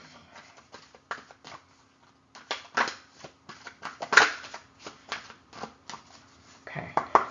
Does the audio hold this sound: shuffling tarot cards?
yes